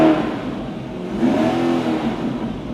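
Hybrid car's gasoline combustion engine starting and running, a mid-pitched engine hum that swells and steadies over a few seconds, fairly close, with no talking.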